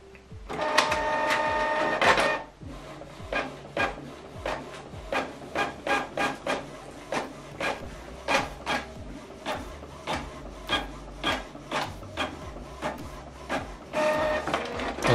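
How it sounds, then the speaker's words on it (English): Canon Pixma printer printing a document, opening with a whirring feed, then a long series of rhythmic mechanical clunks and shuffles from the print head, ending in another motor whir, close and clear without talk. "Now this document is printing."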